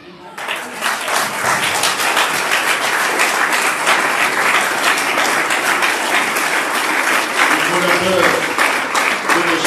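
A church congregation at an evangelical Sunday service breaks into loud, sustained applause that swells and carries on steadily from start to finish, filling the hall.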